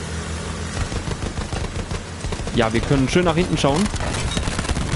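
Gunshots in the video game Battlefield 1 crackle as dense, rapid distant fire, continuing throughout while someone talks over it.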